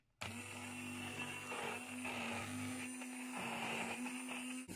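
An immersion blender purees cooked chestnut jam in a pot, running as a steady, fairly loud motor whir with a gritty churning texture that carries almost the full length, without talk.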